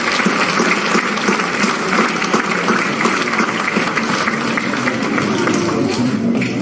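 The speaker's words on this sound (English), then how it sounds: "Please give a big round of applause." Loud, dense audience applause at a presentation, a continuous wash of clapping from a crowd that stays steady throughout.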